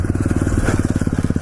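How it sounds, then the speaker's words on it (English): A small pit bike engine revs close up, a loud rapid pulsing putter with a quick rise in pitch partway through, steady and uninterrupted. "I'm on a little pit bike."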